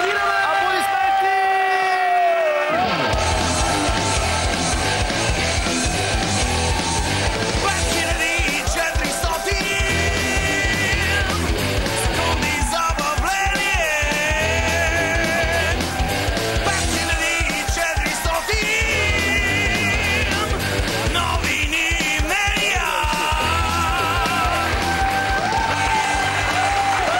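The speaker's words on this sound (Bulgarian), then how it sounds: "Да ги аплодираме! Аплодисменти!" Studio audience at a Bulgarian TV variety show applauding and cheering loudly for circus performers, a dense, sustained roar of clapping and shouts mixed with music after a brief quieter start.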